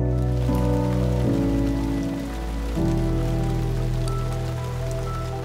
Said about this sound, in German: Der Prüfstand bietet uns die Möglichkeit, einen Landregen in Deutschland nachzubilden mit einer bestimmten Tropfengröße